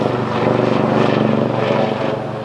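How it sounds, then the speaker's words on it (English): A helicopter flies overhead, a loud, close and steady rotor thump with a pulsing beat that fades a little toward the end. "Got the black helicopters, Barrett."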